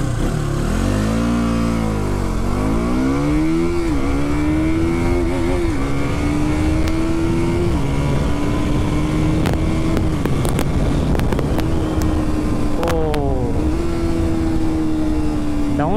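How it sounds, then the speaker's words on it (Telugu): A KTM RC200 motorcycle's engine and exhaust rev steadily, the pitch swooping down, then climbing and holding in a smooth drone, with a few sharp blips near the end, heard up close over constant wind noise. "స్మూత్గా ఉంది ఎగ్జాస్ట్ నోట్"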